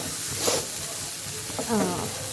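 Onion frying in a pan for broccoli rice, a steady close sizzle throughout with a couple of brief scraping stirs.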